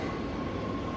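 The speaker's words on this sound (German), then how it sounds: "jetzt kommt die U-Bahn" A New York subway train arrives at Chambers Street station with a steady, loud rolling rumble and a faint thin squeal, filling the platform without talk.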